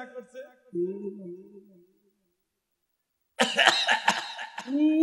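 A preacher imitates coughing during a sermon, a burst of rough, noisy coughs and throat sounds that follows speech and a pause and runs to the end of the clip.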